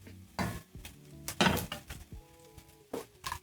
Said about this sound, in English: once you start to see the butter bubbling or sizzling